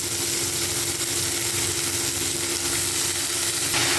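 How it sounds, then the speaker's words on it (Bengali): Potatoes browning in hot oil for a cabbage curry, with cabbage about to join them in the pan; a steady, loud, even sizzle of frying runs throughout, close up and with no voices. "আলুটা একটু লাল লাল করে ভেজে নিয়ে এর উপরে আমি দিয়ে দেবো বাঁধাকপি"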